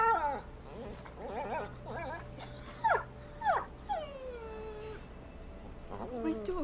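A dog in the video game A Plague Tale whimpers and whines in several rising and falling cries, close and fairly clear, over a low, steady game background hum.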